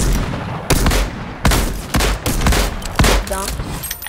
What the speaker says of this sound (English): they're shooting at us, Cameron